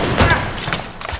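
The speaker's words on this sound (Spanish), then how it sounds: "Tras un disparo ensordecedor, Susan permaneció de pie" A gunshot sound effect gives a short, loud burst with a booming tail, followed by a couple of fainter echoing cracks, all within about a second.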